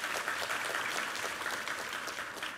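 Congregation applauding in a church during a Sunday worship service, a steady dense wash of many hands clapping from a distance for a few seconds, with no talk over it.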